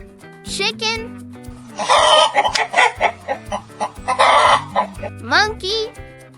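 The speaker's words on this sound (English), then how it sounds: "Chicken." A chicken clucks in a run of quick, loud bursts with a short squawk-like cry, framed by a brief voice at the start and end.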